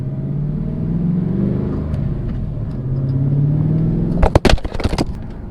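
A Ford 5-litre Windsor stroker V8 idles with a steady low rumble, then gives a few sharp, loud revs near the end, each climbing and dropping off quickly.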